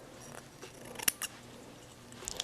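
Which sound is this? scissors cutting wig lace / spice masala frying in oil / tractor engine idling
scissors cutting wig lace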